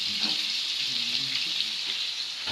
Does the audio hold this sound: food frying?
yes